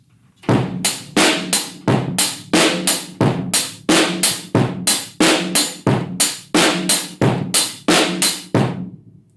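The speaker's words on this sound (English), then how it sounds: "It kind of gives it a traditional disco feel" Steady, upbeat disco drum groove with kick, crisp hi-hats and a snare backbeat over a bass line, repeating evenly for several bars, loud and close.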